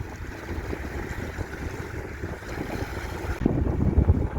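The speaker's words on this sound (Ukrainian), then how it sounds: "Трошечки вітряно, але класно." Wind buffets the microphone in the Netherlands in a continuous rough rumble that grows stronger near the end, with no voices.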